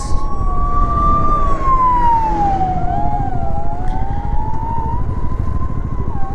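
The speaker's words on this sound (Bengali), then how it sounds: "অ্যাম্বুলেন্স" An ambulance siren wails loudly and steadily, its pitch sliding slowly downward and back up, over a constant roar of road traffic nearby.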